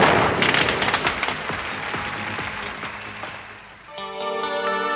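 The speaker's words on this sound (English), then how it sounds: "the Sky Tower was welcomed with a spectacular fireworks celebration which lit up the night sky" Fireworks crackle and boom in dense overlapping bursts at the Sky Tower opening celebration in Auckland, fading slightly before a bright rising tonal sound takes over near the end.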